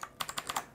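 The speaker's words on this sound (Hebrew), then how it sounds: "קודם כל, תקשיבו לצליל שלה, יש לה את הסאונד הזה" Five or six crisp, evenly spaced keystrokes on an Alfawise V1 mechanical keyboard, close and clear, each a sharp clacky click with nothing else around.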